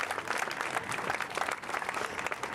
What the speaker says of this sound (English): Can we actually give them a round of applause for putting on this incredible event?